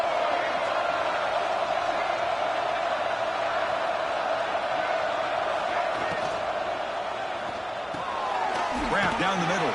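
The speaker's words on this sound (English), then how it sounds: "this home crowd is fired up and ready to make a difference today" Home crowd at a football game roaring in a steady, dense wash of cheering that fills the stadium, with a brief lift near the end as play unfolds.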